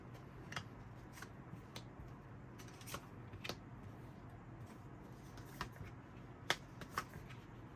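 Tarot cards are shuffled and drawn in a quiet room: faint, scattered soft snaps and card flicks, irregular and close, with no talking.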